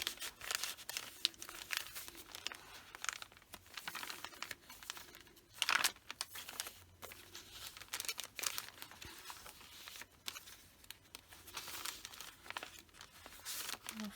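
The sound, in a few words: paper bag with paper scraps rustling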